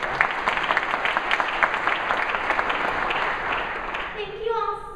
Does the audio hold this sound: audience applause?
yes